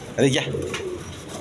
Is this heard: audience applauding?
no